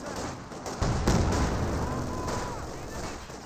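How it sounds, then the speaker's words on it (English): Bolt-action rifle fire from a German Grenadier squad in Company of Heroes 2, a cluster of sharp cracks with a heavier report, set against continuous battlefield din and a commentator talking over it. "Looks like these bolt action rifles do fire relatively quickly for that squad."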